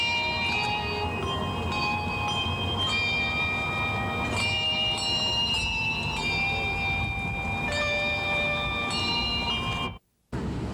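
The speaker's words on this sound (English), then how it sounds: "a bell choir." A children's handbell choir rings out during an outdoor tree ceremony, layered sustained bell tones overlapping in a steady, continuous melody that fills the space, then cuts off abruptly near the end.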